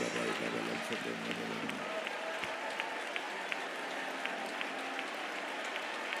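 A congregation at a Sunday worship service at a convention in Vijayawada claims together in a dense, steady patter that goes on throughout. A man's speech rings out at the start and then gives way to the clapping.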